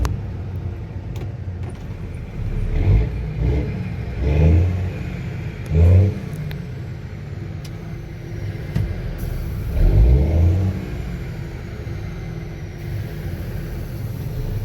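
A Cummins N14 diesel truck engine runs outside a shop, settling into a steady rumbling idle between several loud, deep revs that swell and fade at intervals, with no one talking.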